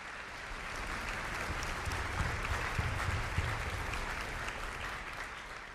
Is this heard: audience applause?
yes